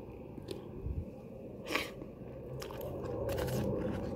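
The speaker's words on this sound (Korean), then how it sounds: "면과 깻잎 장아찌의 조화 먹어보겠습니다." Close, wet chewing and slurping of noodles eaten with pickled perilla leaves, with soft crunchy bites and smacking sounds over a low background hum.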